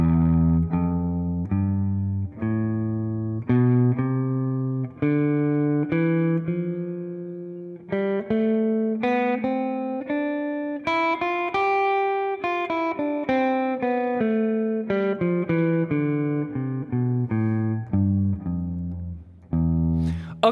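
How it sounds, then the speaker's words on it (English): A musical scale played straight up and then back down as plain practice: evenly spaced single notes climbing steadily in pitch, then descending in the same even rhythm, clear and close with no talking. "here's my scale and I'm gonna go ahead and practice it, and it's gonna sound pretty much just like this"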